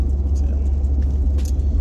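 A car drives along with a loud, steady low engine rumble and road drone filling the cabin, continuous and close, with no one talking over it.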